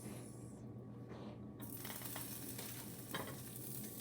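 Butter sizzling in a pan while a burger bun toasts, a dense, even crackle close by with a spatula pushing it around, and no voices.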